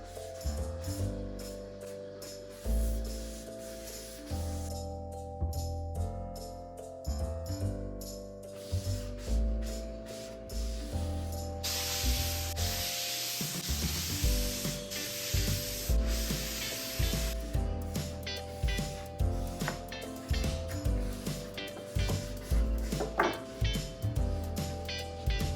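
Wood furniture being stained, with steady rhythmic rubbing and wiping strokes against the wood that run throughout, plus a denser brushing stretch in the middle, all under background music.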